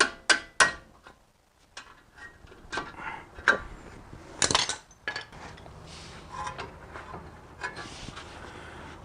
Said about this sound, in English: A little punch to help kick the bolt out.